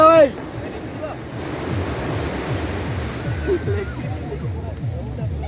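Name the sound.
sea waves washing onto beach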